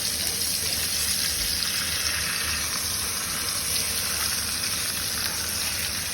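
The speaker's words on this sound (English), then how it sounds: "Time for the pan searing. Already done one side. Doing the second side now." A cattleman's steak sears in a hot pan on its second side, giving a loud, continuous sizzle and crackle that holds steady throughout, with no talking.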